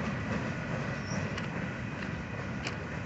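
Union Pacific locomotive UPY 1008, leading a local freight alone, rumbles past as a steady, continuous low drone with broad noise throughout and no voices.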